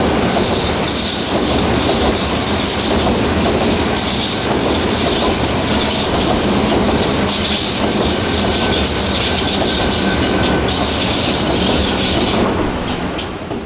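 A preserved heritage railway train on the line between Totnes Riverside and Buckfastleigh rolls past close by, with a loud, steady rumble, rhythmic wheel clatter and squeal over the rails, fading slightly at the end.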